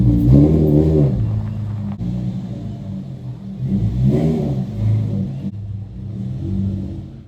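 Engine of an Infiniti G35 sedan drift car with a VQ35DE V6, revving in rising and falling surges as it drives into a pole barn, loud and close with no talk.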